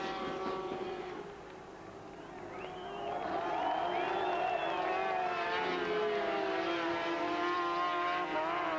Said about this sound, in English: you can hear the crowd roaring in the background